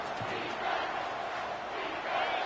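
Football stadium crowd roaring during a late fourth-quarter defensive stand in a Texas vs. Florida game; a dense, steady wall of cheering and shouting fills the whole stretch without letting up.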